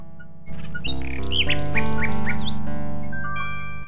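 A small bird chirps in the King's Quest VI adventure game, a quick series of bright tweets over a steady synthesized music bed, with no speech.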